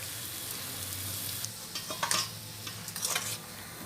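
Mango rice (chitranna) with roasted peanuts, grated coconut and coriander leaves being stirred in a pan, giving soft intermittent scraping and light sizzling, with a few louder spoon strokes near the end and no talk.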